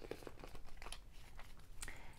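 A deck of tarot cards is shuffled by hand, giving close, faint crinkly rustles and soft flicks of sliding cards in irregular bursts, with no talking over it.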